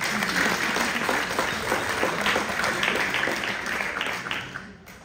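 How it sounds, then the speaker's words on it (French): Newly qualified care-assistant graduates applauding themselves at their state diploma ceremony, a full sustained round of clapping that fades out at the end. "Vous pouvez aussi vous applaudir."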